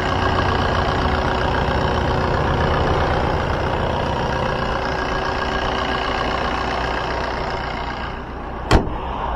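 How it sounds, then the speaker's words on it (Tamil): A Maruti Suzuki Swift Dzire diesel engine idles with an even, unbroken drone, close by, with a single sharp click near the end. "இப்போ வாங்க வண்டியோட இன்ஜின் சவுண்ட் எப்படி இருக்குது அப்படின்றத கேட்போம்."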